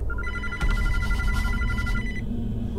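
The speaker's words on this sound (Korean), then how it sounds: "이거 전화기 소리가 이상한 데서 들려 지금." A telephone rings in a video game, a loud repeating electronic bell trill that sounds in two bursts over low background music and noise.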